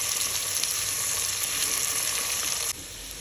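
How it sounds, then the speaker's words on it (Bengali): Onions and boiled potatoes fry in a pan for a Bengali-style egg bhuna, giving a loud, steady close-up sizzle that drops off abruptly near the end, with no talking. "আলুগুলো হালকাভাবে ভাজার জন্য, পেঁয়াজের সাথে হালকা ভাজার জন্য আমি এগুলোকে একটু ভেজে নিচ্ছি।"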